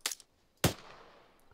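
Two sharp gunshots from a rifle firing tracer rounds in the military shooter Arma 3, a short crack followed by a louder report with a trailing echo that fades over a second.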